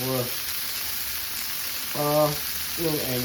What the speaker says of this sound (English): The steak has been cooking for about 6 minutes.